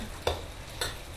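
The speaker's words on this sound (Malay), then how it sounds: "Dia kena goreng satu-satu, dia tak boleh goreng banyak, dia tak jadi." Javanese cucur fritters fry in oil one at a time, a faint steady sizzle broken by two soft stirring scrapes.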